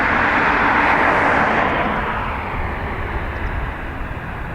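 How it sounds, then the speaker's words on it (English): A British Airways Embraer jet takes off from Dublin Airport's north runway, a loud, broad engine roar close by that gradually fades as the aircraft climbs away. "British Airways, Embraer off to London City Airport"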